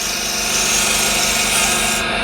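Refiner scraper shear-scraping a wood surface, a steady close rasping scrape that holds loud throughout with a slightly pulsing texture.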